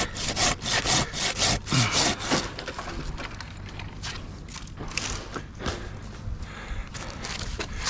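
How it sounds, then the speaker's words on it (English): A handsaw cuts through dead cherry wood during a tree climb, a series of rapid rasping back-and-forth strokes that start strong and then continue more softly and irregularly, close by with no talking. "I can make some handsaw cuts here."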